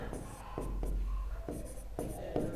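Chalk or marker writing on a classroom board during a physics lesson, a series of scratchy strokes and taps at close range with a faint voice in the background.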